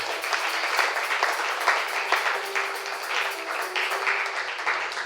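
A church congregation applauding, dense sustained clapping from many hands at a fairly loud level, continuous for several seconds with a steady rhythm and no speech over it.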